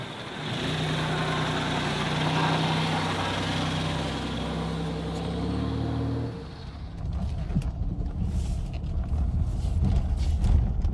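A 1991 Oldsmobile Ninety-Eight Touring Sedan runs with a steady engine hum and tones that shift as it drives, then gives way to rougher road and wind rumble heard from inside the car.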